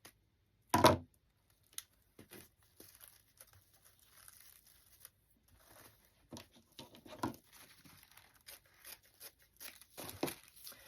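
Scissors snip excess glue off a decorative witch's hat from Home Goods, one sharp crisp cut near the start followed by quieter scattered rustling and small handling sounds, close and without talk.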